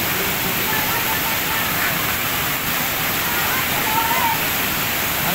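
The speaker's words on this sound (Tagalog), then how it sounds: "Ang lakas ng falls" Butong Falls in Lagayan, Abra, a waterfall with strong flow, roars as a dense, constant rushing wash of water close by, steady and unbroken throughout.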